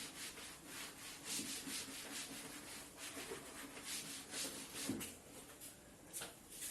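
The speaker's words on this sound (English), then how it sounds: "I'm rubbing this side." Hand rubbing against the side of an object at a desk during a physics lesson, a quiet continuous dry scraping with a few soft knocks, heard alone at low level.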